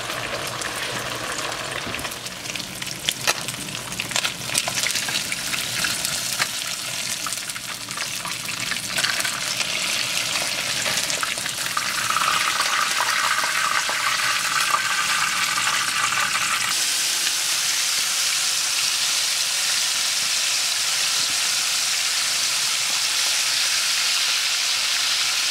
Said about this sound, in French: je vais laisser ça mijoter encore